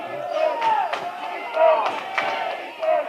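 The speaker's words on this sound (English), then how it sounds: "Loud crowd cheering on the Bruins on the defensive side" A crowd cheers loudly through a boys' high school basketball regional final as the home side defends. The roar is steady and dense, with surges and sharp thumps, and a commentator speaks over it.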